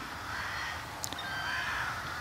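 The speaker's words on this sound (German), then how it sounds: "Da ist irgendeiner, der die Krähen ärgert." Crows in a moorland setting caw while being harassed, harsh calls sounding at a distance over a steady background hiss, with one brief sharp sound in the middle.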